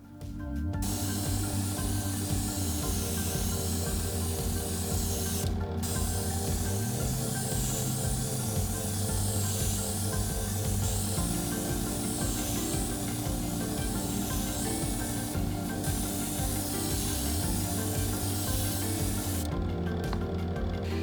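An airbrush sprays paint onto a mackerel fishing lure, giving a steady close hiss with brief breaks and a pulsing compressor hum beneath, continuous for most of the stretch.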